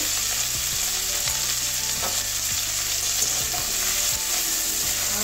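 Cauliflower and potato pieces frying over medium heat for a mung dal dish, a dense continuous sizzle with repeated close scraping strokes of a spatula in the pan.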